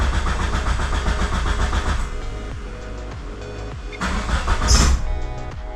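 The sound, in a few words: Mitsubishi Eclipse GSX engine cranking and starting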